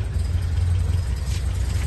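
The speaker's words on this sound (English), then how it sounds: "engine ticking over there nice and quietly, sounds very sweet" A 1971 MG B sports car engine idling just after starting, a steady low, even burble ticking over quietly and smoothly at close range with no talk.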